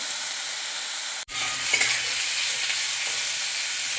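Ivy gourd (kudri) fries in a pan for a vegetarian dish, giving a steady, close sizzle with faint stirring that cuts out briefly about a third of the way through, then resumes. No one talks.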